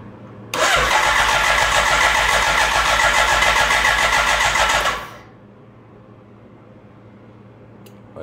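A BMW K Series motorcycle engine cranks on its electric starter in a loud, steady whirring burst of about four seconds. It stops abruptly without catching, leaving a low background hum.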